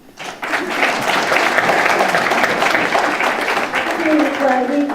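An audience at a neuroscience and Buddhist psychology talk breaks into applause after a speaker finishes, a dense, steady wave of clapping that starts abruptly and carries on, with a voice emerging faintly near the end.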